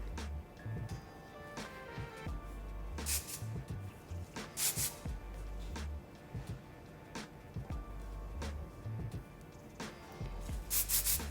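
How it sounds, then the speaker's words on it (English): Kenra Volume Spray 25 hairspray goes onto hair during a sleek twisted bridal bun styling, in several short hissing bursts spaced irregularly among soft handling and rubbing sounds. "just smoothing with the Kenra Volume Spray 25"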